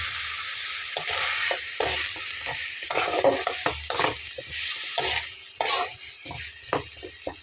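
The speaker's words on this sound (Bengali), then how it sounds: "ডাঁটাটা দিয়ে খুব ভালোভাবে কষবো, সঙ্গে আমি ডালগুলো দিয়ে নিচ্ছি।" Stems being stir-fried in a spiced masala in a pan, with repeated scraping stirs and clatters over a steady background sizzle, close and fairly loud, with no talking.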